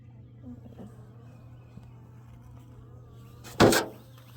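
Honeybees hum faintly and steadily around an opened lower hive on a dry day, a low, quiet drone broken once by a short, loud rustling burst near the end.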